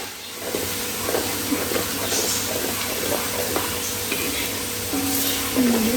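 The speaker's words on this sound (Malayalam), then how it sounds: "ഇഞ്ചി വെളുത്തുള്ളി നന്നായിട്ട് മൂത്തുകൊണ്ടിരിക്കുകയാണ്" Ginger and garlic sautéing in oil for a Kerala-style hog plum pickle, a soft continuous sizzle and hiss with occasional stirring scrapes, close and moderately quiet, with faint background sounds.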